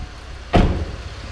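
Hood of a used Cadillac SRX with a 3.6-liter V6 popped open, a single close thud with a short low rattle that fades away, with no voices.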